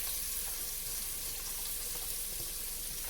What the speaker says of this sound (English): so let's go ahead and start sauteing the onion.